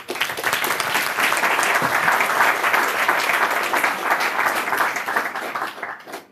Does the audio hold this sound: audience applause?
yes